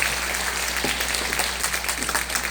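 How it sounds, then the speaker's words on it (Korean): Audience of property owners at a residents' briefing session applauds in a steady, dense patter of clapping that fills the room evenly for a few seconds, with no talk over it. "다시 한번 큰 박수로 부탁드리겠습니다"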